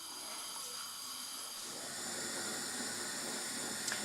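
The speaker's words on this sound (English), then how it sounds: "Nkontomire, tomatoes, onions and pepper boiling away." A pot of nkontomire, tomatoes, onions and pepper boils away with a steady hissing bubble and steam, growing slightly louder midway and continuing alone without talk.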